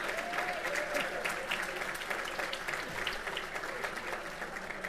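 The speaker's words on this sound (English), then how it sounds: "See how much we appreciate you with that applause." Audience applause fills an award of valor ceremony hall, a steady, dense wash of clapping from a large crowd that holds at an even level throughout.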